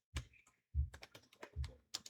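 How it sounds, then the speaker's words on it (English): Someone types on a computer keyboard while filling in an online form, with a few close clusters of quick key clicks separated by short pauses. "I don't know what I'm typing."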